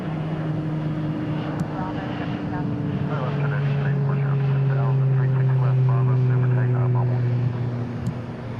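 Airliner on runway 36 left at DFW International Airport, a steady engine drone rising and holding at a distance, with someone talking over it.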